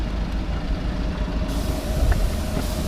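A London transit bus on a city street lets out a steady hiss of air brakes over low engine rumble, heard fairly close and moderately loud for a few seconds.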